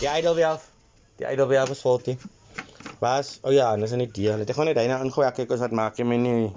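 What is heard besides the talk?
No everyday noises stand out.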